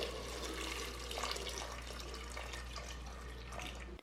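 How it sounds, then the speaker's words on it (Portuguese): Filtered water poured from above onto peeled potatoes in a cooking pot, a steady close splashing and trickling stream that runs unbroken to the end without any talk. "Cubra as batatas com água filtrada"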